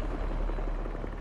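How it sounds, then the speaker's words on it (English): A deep, pulsing helicopter rotor chop from the Spider-Man 2 video game, a steady low thrum with rhythmic beats running continuously and loud throughout with no speech. "a helicopter's blades."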